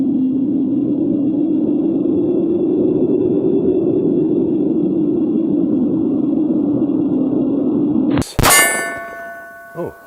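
A Bear Creek Arsenal Grizzly BC-102 Glock clone pistol fires once with a sharp, loud crack and a ringing metallic tail, after a long stretch of steady low hum.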